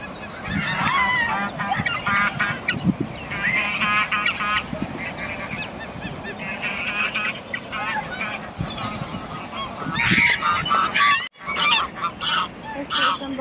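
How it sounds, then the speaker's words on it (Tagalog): Peking ducks in a park give repeated loud honking calls throughout, near and overlapping, with a brief break before the calls resume. "O Peking duck."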